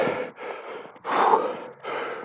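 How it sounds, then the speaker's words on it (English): Heavy, close breathing from someone hiking uphill at a campground in Chehalis, Washington, with a series of loud, rough inhales and exhales in an uneven rhythm and no talking. "sorry for the breathing, it's a little bit of a hike"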